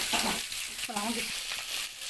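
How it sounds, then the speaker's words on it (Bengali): Pieces of live tilapia laid one by one into hot oil for a papaya-and-potato curry, crackling in a steady close sizzle with a brief louder burst partway through. "একটা একটা করে মাছ তেলের মধ্যে দিয়ে দেওয়া হচ্ছে"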